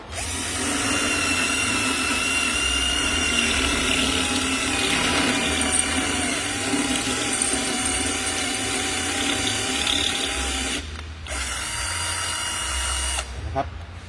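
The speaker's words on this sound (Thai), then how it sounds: "เดี๋ยวเราจะลองทดสอบสว่านไร้สายเอนโซโดยการเจาะผนังปูนดูนะครับ" An Enzo 48V cordless drill bores into a concrete wall with a loud, steady whining grind. It briefly stops near the end, then starts again.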